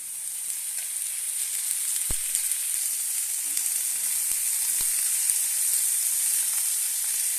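Red amaranth greens hiss and sizzle steadily in a pan of fried onion and green chilli, with a few sharp knocks of a utensil against the pan, no talk.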